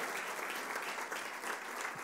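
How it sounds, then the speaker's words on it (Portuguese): A church congregation applauds loudly and steadily, a dense wash of many hands clapping together for a couple of seconds, with no voices standing out. "dê um aplauso forte para o Senhor Jesus"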